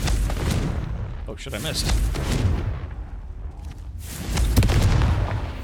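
Confringo fire-spell blasts in Hogwarts Legacy, repeated booming bursts over a dense rumbling background while a player talks throughout.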